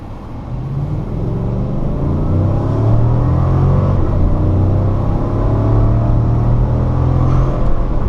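A 2015 GMC Yukon Denali's big V8 launches hard from a stop in four-wheel drive, a loud, deep engine rumble climbing steadily in pitch as the SUV accelerates, heard from inside the cabin with no talking.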